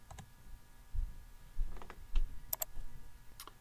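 Several soft keyboard clicks on a computer keyboard while entering hours into an online timecard, faint and sparse, with quiet room background and no talking.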